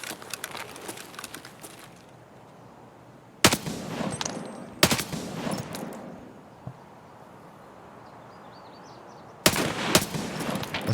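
Video game gunfire rattles in several bursts, rapid automatic shots with sharp loud onsets separated by quieter gaps, close and punchy, without speech.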